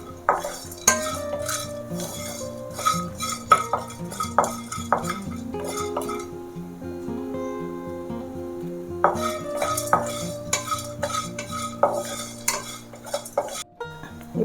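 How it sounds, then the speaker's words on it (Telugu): Spices frying gently in a pan on low heat, with a light sizzle under repeated spoon scrapes and clinks as they are stirred, close up and with no talking. "మాడిపోకుండా చిన్నగా పెట్టి ఫ్రై చేసుకుందాము."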